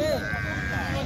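A Beetal goat bleats once, short and near, at a busy livestock market, with someone talking over steady crowd murmur throughout.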